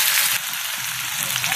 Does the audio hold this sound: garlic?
yes